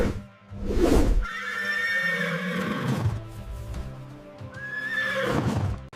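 A horse neighing loudly and close up. A long, shrill whinny rises and quavers for several seconds, then trails off and comes back in a second call, with no voices over it.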